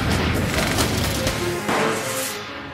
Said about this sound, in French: Après 3 explosions non concluantes à petite échelle